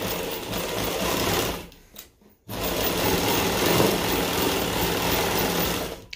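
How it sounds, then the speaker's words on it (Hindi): An electric sewing machine stitches a seam on a palazzo: a fast, steady mechanical whirr that runs loud and close, stops briefly for a moment, then resumes at the same even pace. "यहाँ पे अब इसको सिलाई लगा देंगे"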